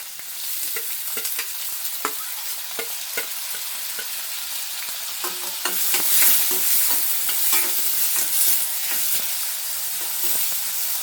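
Chopped onions and green chillies fry in hot oil, giving a steady crackling sizzle with repeated scraping stir strokes, close and fairly loud, the frying growing a little brighter midway.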